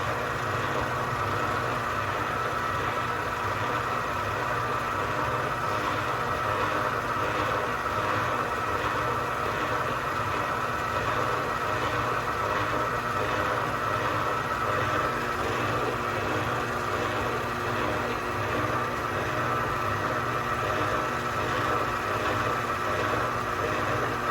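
An electric mixer runs on third speed through oatmeal raisin cookie dough, giving a steady, loud, continuous motor drone that holds constant throughout with no talking.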